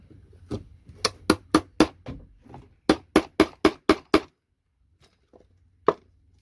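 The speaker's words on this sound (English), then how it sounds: "I'm going to remove this with a chisel actually." A chisel is hammered against a scrap low-grade circuit board to free a copper transformer. Loud, close sharp strikes come in two quick rapid bursts of five or six blows each, then a few isolated knocks after a pause.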